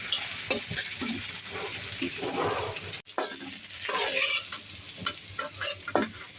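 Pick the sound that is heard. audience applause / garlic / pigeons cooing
garlic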